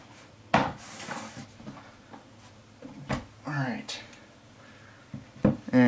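Cardboard packaging for an Astro A40 headset being closed up, giving a few sharp knocks and thuds plus scraping and rubbing, near and moderately loud, with a steady hum beneath.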